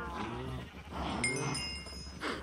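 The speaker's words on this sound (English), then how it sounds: "I cannot think with all your mooing." Farm animals in a video game bleat and moo in a few overlapping, drawn-out calls at moderate volume, with a faint electronic tone mixed in and no talk.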